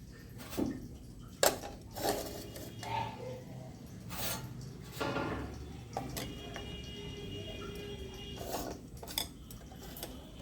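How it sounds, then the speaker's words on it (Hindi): Metal clinks and taps as a stand and rack are set into a pan of hot water for steaming idli, several scattered knocks at close range. "हम इसमें एक स्टैंड रखेंगे और इसमें एक जाली रख देंगे"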